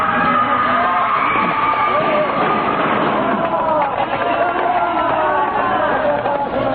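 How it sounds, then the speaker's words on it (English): A hysterical mob flees through the streets from mounted police with lashing whips in an old radio drama, a dense, continuous roar of crowd shouting and scuffling on a muffled, narrow-band broadcast sound. "hysterical mob sweeps through the streets, driven on by the lashing whips of the mounted police"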